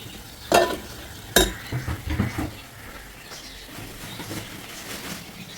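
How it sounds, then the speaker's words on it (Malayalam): Coriander powder and Kashmiri chili stirred into frying onions in a pan, with a couple of sharp scraping knocks, soft scuffing stirs and a faint sizzle underneath, fairly quiet and close. "കറിക്കൊരു മല്ലിപ്പൊടി, കുറച്ച് കാശ്മീരി ചില്ലിയും കൂടി ചേർത്ത് ഇളക്കുന്നു"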